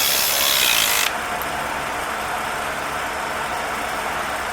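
An automatic brake puller ratchets during a rear axle swap on a 210, with a short burst of brisk mechanical clicking up front, then a steadier low mechanical hum close by.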